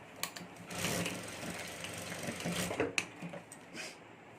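Sewing machine stitching a zipper onto the border of a clutch purse, a steady close mechanical whir running through most of the stretch with brief pauses and clicks, no talking.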